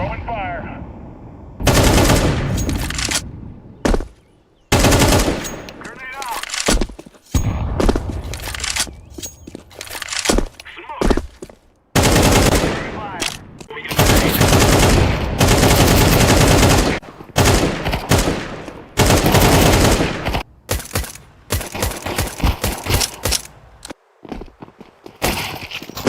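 Loud automatic gunfire and explosions in a first-person shooter, repeated bursts separated by short pauses, with a voice heard between the shots.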